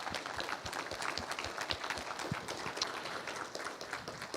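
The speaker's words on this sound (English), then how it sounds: "If they would all please stand for a round of applause" An audience at a literacy awards ceremony gives a round of applause for former award recipients, with dense, even clapping heard at a moderate distance throughout.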